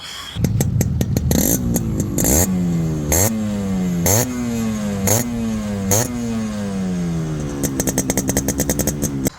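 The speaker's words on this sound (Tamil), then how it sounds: "இப்போ இந்த வண்டியோட பீட் சவுண்ட் கேட்கலாம் வாங்க." A restored black Yamaha RX100 motorcycle engine revs in repeated sharp bursts, each climbing then falling back to a throbbing two-stroke idle, ending in a quick series of rapid blips; loud and close, no talk.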